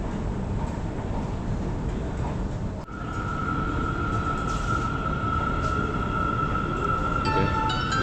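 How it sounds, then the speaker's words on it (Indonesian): An MRT underground train arrives at a station in Kuala Lumpur with a continuous heavy rumble, then a sustained whine and faint screeches as it pulls in. "Oke, MRT-nya udah sampai."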